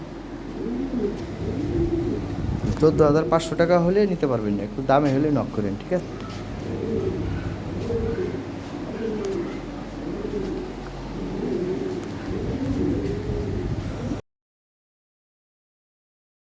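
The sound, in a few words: Lahori Sirazi pigeons cooing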